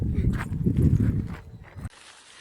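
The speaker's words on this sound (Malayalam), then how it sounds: "ഇതാണ് കാളവണ്ടി." A few bullock hoofbeats clop on the ground nearby from a bullock cart hauling sugarcane in a Maharashtra village, with rustling and movement, then the sound cuts off abruptly near the end.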